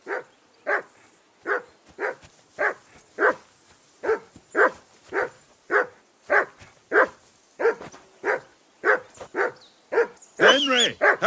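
A dog in the video game Kingdom Come: Deliverance 2 barks over and over at a steady, insistent pace, with loud close barks closing into a rough, whining yelp at the end.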